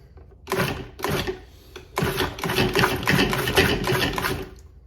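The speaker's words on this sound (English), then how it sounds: "And we start by pulsing as usual." Food processor pulsing gluten-free chocolate cake ingredients, a series of short loud whirring bursts with brief gaps between them, close and alone.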